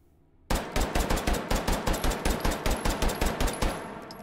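Rapid automatic fire from a stocked Glock 9x19mm pistol in the VR shooting game H3VR: about twenty sharp, evenly spaced shots in a steady burst, loud and close, with no talking.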